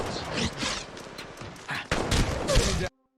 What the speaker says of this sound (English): You can hear the shotgun now.